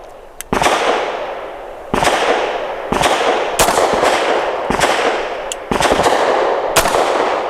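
Pistol shots from a Bersa TPR 380 Plus firing Remington Golden Saber 102-grain rounds, short-barrel loads: about eight loud, sharp reports at uneven intervals, each with a brief decaying tail, close and without speech.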